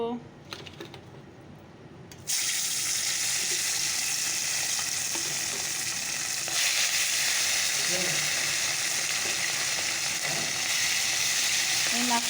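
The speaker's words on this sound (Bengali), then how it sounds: "কড়াই তেলটাও দিয়ে দিয়েছি চলো মাছগুলো ছেড়ে দেই মাছগুলো দিয়ে দেবো" Fish sizzling in hot oil in a wok, a loud steady frying hiss that starts abruptly and continues throughout, with occasional spatters and some faint background activity.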